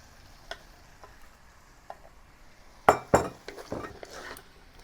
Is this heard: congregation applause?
no